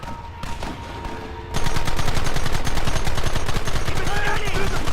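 Rapid gunfire in Red Dead Redemption, a sudden loud burst of repeated shots starting after a quieter opening with voices, then a dense rhythmic volley continuing to the end.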